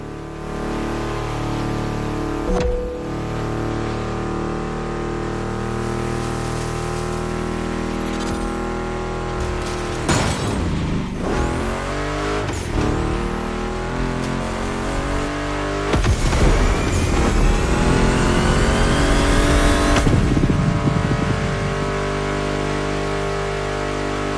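Ford Mustang GT muscle car engine in The Crew Motorfest, a loud, continuous rumble with stacked harmonics, punctuated by several sharp revving bursts and gear-change sweeps over about twenty-four seconds.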